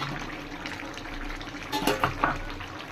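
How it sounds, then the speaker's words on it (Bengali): Fish dropped into a pan holding a little water, giving a soft splash and a few wet clinks against the pan after a steady low simmer, with no talking. "এবারে মাছটা আমি দিয়ে দেবো"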